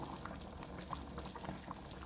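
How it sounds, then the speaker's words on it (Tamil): Fried fennel and chilli tempering goes into a boiling sambar masala mixture, giving a soft, steady bubbling with faint sizzles, quiet and close, with no talking. "நம்ம கொதிக்கிற இந்த கலவையில் மசாலா கலவையில் நம்ம தாளிப்பை சேர்த்துடுறோம்"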